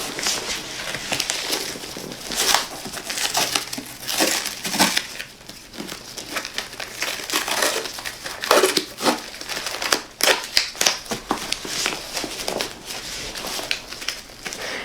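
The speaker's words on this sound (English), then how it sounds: "Then what I gotta do is I gotta tape it, and I'll just do this real lightly so it could still be able to expand." Surgical tape crinkles and rips as it is applied lightly over gauze dressing on a post-surgery wound drain, with irregular crackling and tearing bursts close by for about fifteen seconds, no talking.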